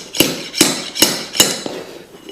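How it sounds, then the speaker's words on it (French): A pull bar is tapped while PVC floor planks are tightened: four crisp, evenly spaced hammer knocks ring out nearby, followed by a fainter fifth tap. "je vais utiliser un outil spécial qui est ce tire-lame"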